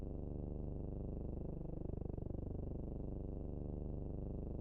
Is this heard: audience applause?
no